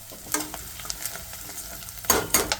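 Chopped onions with ginger-garlic paste and turmeric fry in a pan for a cluar bean curry, with soft sizzling and a few sharp stirring scrapes, the loudest near the end; no one speaks.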